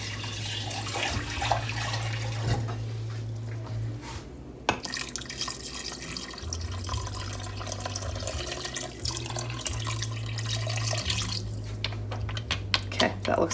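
Water pours and splashes into an Instant Pot over dry pasta, with a spell of dripping and running flow. A person talks quietly over it, and a low hum sits underneath.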